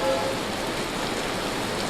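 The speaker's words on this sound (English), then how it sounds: "Is it still hailing? Of course it is." Hail falls in the Vintage Story game as a steady, dense hiss of pattering impacts, even and continuous throughout with no voices.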